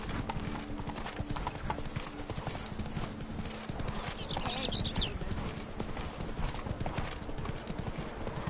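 Roach the horse's hooves clip-clopping in The Witcher 3, a steady rapid clatter of hoofbeats with a brief whinny partway through, close and continuous.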